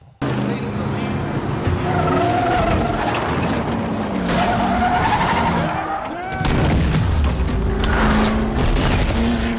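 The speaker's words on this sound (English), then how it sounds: "These explosions, man. Just the way they showcase them in this film is like insane." Loud, booming explosions crash repeatedly through a dense action soundtrack from the film Ford v Ferrari, with roaring engines and screeching tires between the blasts.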